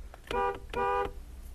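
A Hella dual-tone horn fitted to a Renault Triber sounds two short, clear honks in quick succession, moderately loud over a low background rumble.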